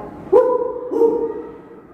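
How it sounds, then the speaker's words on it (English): Two short dog barks ring out close and clear, one sharp and one softer a moment later, against a quiet background. "Yes, that is a dog."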